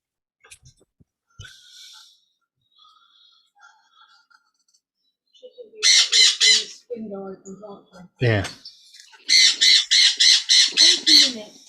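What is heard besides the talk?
bird squawking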